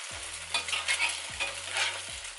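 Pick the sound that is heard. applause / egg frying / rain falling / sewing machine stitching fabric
egg frying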